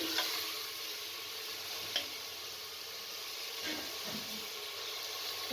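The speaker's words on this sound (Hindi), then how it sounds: "अब इसके अंदर टमाटर को शामिल कर दें। तमाम चीज़ों को अच्छे तरीके से मिक्स कर लें।" Tomatoes stirred into a frying pumpkin and meat curry over a medium flame give a steady, soft sizzle, with a few scraping stirs of the spoon and no voices.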